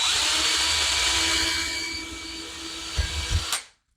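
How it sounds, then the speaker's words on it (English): A power drill boring holes for cabinet handles through a drilling template whines steadily and loudly, slowly easing off, then a couple of clunks before it cuts out abruptly into silence. "I normally just take it off and I can go ahead and finish drilling."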